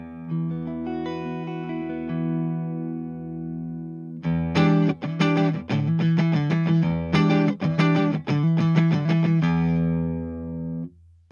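Electric guitar on a clean tone from the neck pickup, struck with a pick: a sustained ringing chord fades, then a burst of quick picked notes and chords rings out clearly with no talk.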